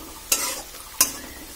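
Sliced onions frying with turmeric and red chili powder in hot oil, two quick spatula stirs scraping across the pan over a soft steady sizzle, close and clear.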